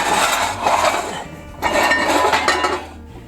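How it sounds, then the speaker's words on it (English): Lids of preheating Dutch ovens scrape and clink against the pots, two short bursts of metallic rattling separated by a brief pause, close and fairly loud with no talking. "Now I like to move the lids off slightly"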